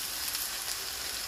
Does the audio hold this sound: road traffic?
no